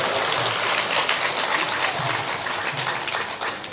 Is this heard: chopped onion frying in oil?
no